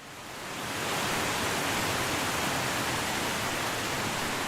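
A waterfall in the video game The Entropy Centre gives a loud, steady broadband roar of rushing water that swells in over the first second and then holds constant on its own, with no talk over it.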